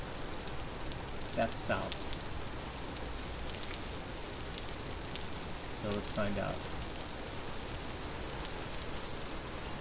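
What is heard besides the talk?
rain falling in video game Vintage Story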